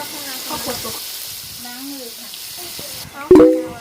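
Sliced pork belly sizzles steadily on a hot grill while someone talks nearby, ending with a louder burst of hissing and crackle.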